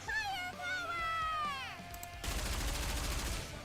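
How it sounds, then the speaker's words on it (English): Dense, rapid gunfire rattles loudly in the Goddess of Victory: Nikke shooter game, bursting in after a stretch of rising tonal effects and continuing as a sustained barrage. "Barrage of bullets."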